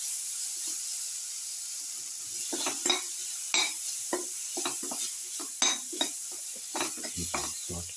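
Pieces of three salted tomatoes sauteing in a casserole, a soft steady sizzle with scattered scraping and clinks of a utensil stirring the pan, close and fairly quiet.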